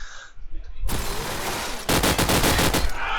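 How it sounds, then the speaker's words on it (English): SMG fire in a competitive video game match at a LAN playoff, loud rapid bursts of automatic gunfire in two close runs, briefly broken by a short pause. "Dins right below there, picked up the SMG, there goes Dins as well"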